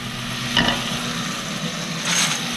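A pot of boiling salted water is stirred before pasta goes in, with a steady bubbling roil and two brief scraping swirls of the spoon, close and moderately loud.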